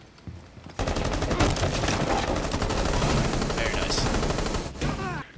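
Sustained rapid gunfire breaking through a wall in the tactical shooter Rainbow Six Siege, a loud continuous burst lasting several seconds after a short quiet start, with a brief lull and scattered clatter near the end.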